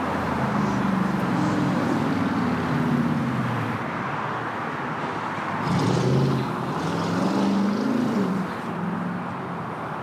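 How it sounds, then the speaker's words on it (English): A China Airlines Cargo Boeing 777 freighter taxis on a taxiway at LAX toward runway 24 right, its engines giving a steady distant jet rumble that swells briefly around the middle and stays continuous throughout. "China Airlines Cargo, the 777 freighter you see in the background on Foxtrot, making its way over to 24 right."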